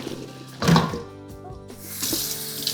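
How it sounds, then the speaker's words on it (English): Tap water runs and splashes in a sink as raw lamb is rinsed, close and fairly loud, with a brief louder gush and some handling knocks, no talking. "Now we'll rinse the lamb."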